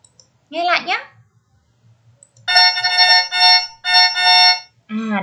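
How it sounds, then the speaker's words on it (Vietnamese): A horn or trumpet sounds in several loud, sustained blasts separated by short gaps, after a brief voice at the start. "Đây là tiếng của một chiếc kèn."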